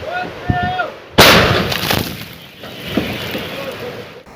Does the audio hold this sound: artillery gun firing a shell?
yes